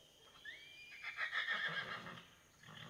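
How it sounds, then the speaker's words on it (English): A horse whinnies loudly and close at a stable while the rest of the herd is out, a rising call that swells into a long wavering neigh lasting over a second before fading, with no talk. "my horses are angry because the rest of them are out right now"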